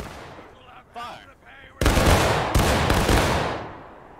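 A massed musket volley in the Civil War game War of Rights cracks out loud and close right after a shouted command, then a second report follows and rolls off into a long echoing tail.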